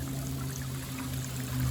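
Hot spring water pours steadily into a private soaking tub, a soft, even splashing stream that runs unbroken and fairly quiet for a short moment.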